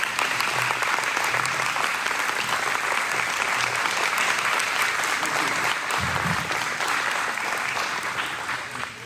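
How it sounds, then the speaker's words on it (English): A banquet audience claps loudly and continuously for a speaker, a dense steady roar of many hands that holds for several seconds before starting to fade at the end. "And give him a round of applause."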